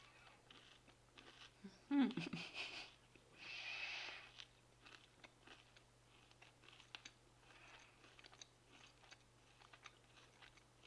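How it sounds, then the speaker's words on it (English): Crunchy chewing of a cranberry-flavoured protein bar from a Norwegian Arctic field ration, a few close, bursty crunches early on, then quieter intermittent munching over a steady low hum. "I don't think I ever had cereal this crunchy"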